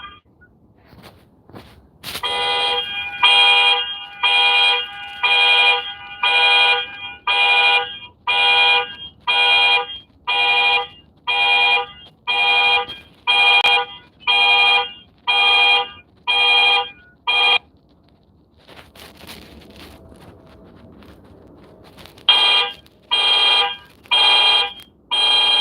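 A loud electronic car alarm blares in rapid regular pulses at 3 a.m., a long run of identical beeps, a brief pause with low background noise, then the pulsing resumes.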